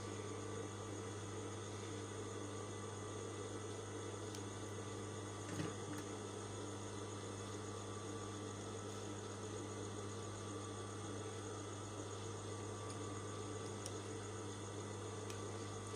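A sewing machine stitches a shirt collar with a faint, steady mechanical whir that runs unbroken throughout, with no talking.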